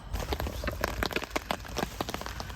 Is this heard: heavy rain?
yes